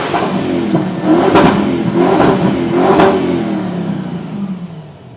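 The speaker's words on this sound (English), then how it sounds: "this car actually just sounds fast. You know, the engine" Bentley GT Mansory, a 2016 GTS race car, revving its engine in several rising bursts, loud and close, with no voices over it.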